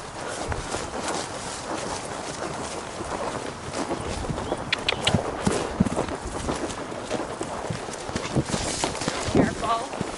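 Horse hooves clip-clopping steadily at a pacing event, set in a busy outdoor soundscape with people talking over the hoofbeats throughout.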